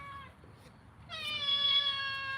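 A cat meows once, a drawn-out, tonal cry that holds steady for over a second, close and fairly clear above a quiet background hiss.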